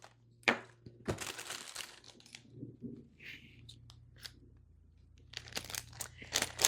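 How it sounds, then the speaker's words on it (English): Plastic packaging of a magnifying desk lamp crinkles and tears in short bursts, with intermittent crunches and rustles close by; no talking, a few quiet pauses between handling noises. "And we're just going to do that by opening the package."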